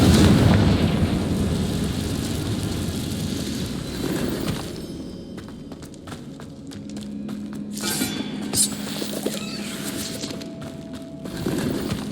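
A Confringo fire spell explodes in the Hogwarts Legacy video game, opening with a loud booming burst that fades into rumbling, followed by glassy clinks, a low sustained hum and scattered sharp magical chimes.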